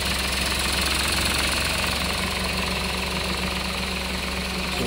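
Toyota Wigo 1.0 engine idling steadily, a continuous low mechanical hum with faint knocking texture, close and unbroken throughout with no voices.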